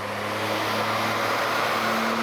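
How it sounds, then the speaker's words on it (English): A BMW E39 530i Touring, unsupercharged, runs on a dyno. The engine holds a steady, loud droning note with a constant low hum, close and without talk. "I put the car on the dyno before installing the supercharger"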